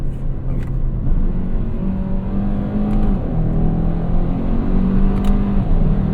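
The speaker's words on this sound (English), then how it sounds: "that is a stout powertrain. I like that. Got some tire squeal as well, and it shifts pretty quick" A 2025 Kia K5 GT in sport mode pulls hard, its engine droning steadily with rising tones through quick shifts, and a brief tire squeal on launch, loud and continuous throughout.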